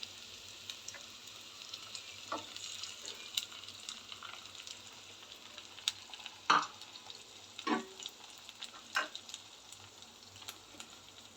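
Two eggs frying in a pan for egg fried rice, a faint background sizzle broken by scattered spatula clicks and scrapes, one louder knock midway, no voices.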